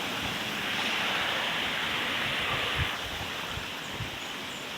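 A mountain stream at Sitio Bariw in Libmanan, Camarines Sur, rushes steadily as a dense, constant wash of running water, close and even throughout, with no talking.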